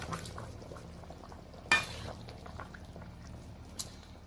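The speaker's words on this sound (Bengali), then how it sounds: "তরকারিটা বেশ ভালোভাবে ফুটে গেছে।" A pot of bhetki fish curry bubbles at a low simmer, soft and close, with one sharp utensil clatter partway through and a faint tap near the end.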